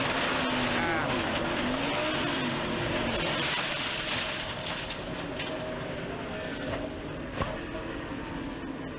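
Onboard audio from Kurt Busch's NASCAR stock car in a wreck at Homestead-Miami Speedway: a loud, continuous engine roar with grinding, scraping noise and a sharp impact near the end, no talk.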